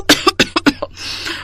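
A woman coughs in a quick series of sharp, close bursts, five or six harsh hacks in a row, followed by a breathy rasp as she catches her breath.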